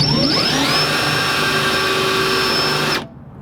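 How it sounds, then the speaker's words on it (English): A power drill bores a pilot hole, its motor spinning up and holding a steady whine for about three seconds before it suddenly stops, leaving quiet. "Get my little pilot hole going"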